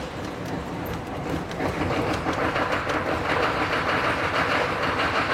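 A 1993 Detroit Diesel 6.2 litre V8 engine turns over and settles into a steady, coarse, loud rumble that builds after the first second and keeps running.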